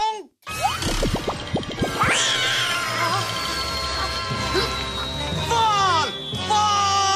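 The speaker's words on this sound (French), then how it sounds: "Prêt à sauver cet adorable petit chaton?" Cartoon kitten meowing repeatedly in a French-dubbed Robotboy episode, mewing cries over a busy, steady bed of cartoon music and effects after a brief silence.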